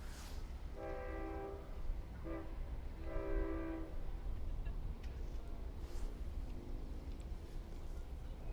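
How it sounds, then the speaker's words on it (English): A Long Island Rail Road train horn sounds two long blasts over a constant low rumble of the train approaching around a curve at Westhampton, with a fainter horn tone trailing off later. "here come the headlights of the train around the curve"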